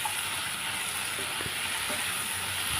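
Coconut and cashews fry in a pan with a dense, even sizzle that stays close and loud throughout, with a few soft stirring knocks and no voices.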